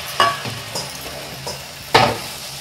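Spice masala for a green chicken curry with coconut milk sizzling in a pan as a spoon stirs it, with soft steady frying hiss and two sharp metallic scrapes of the utensil against the pan, close and clear.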